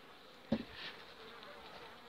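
Bees buzz faintly around a hive frame at an apiary, a soft, steady hum with a brief louder knock or thump near the start.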